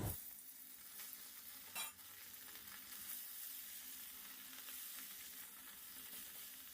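A spicy vegetable curry fries in a pan with a steady close sizzle, and a spoon scrapes it once while stirring.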